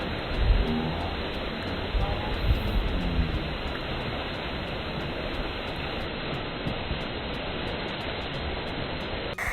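Steady rushing of flowing water near a waterfall, a constant broadband wash like a stream running over rocks, loud and continuous throughout.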